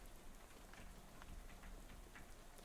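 Steady rain pattering in the video game Shadows Over Loathing, a dense, even wash of drops with faint scattered taps, continuous and fairly quiet with no voices.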